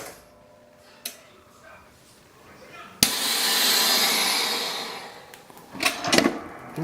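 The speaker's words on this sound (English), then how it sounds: "Now, close the sealer. It starts doing the sealing." VacMaster VP215 chamber vacuum sealer starting with a sharp clunk of the lid closing, then a loud steady pump hiss that swells and holds for a couple of seconds before fading, followed by clicks and rustling near the end.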